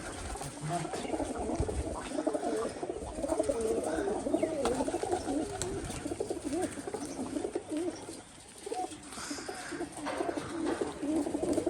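Continuous pigeon cooing mixed with fluttering and shuffling, a busy flock nearby, with faint voices in the background.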